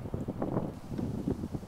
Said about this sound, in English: this is still part of the course where apparently that wind was pretty gnarly